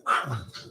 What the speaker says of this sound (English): Apologies for the dogs, as you can hear.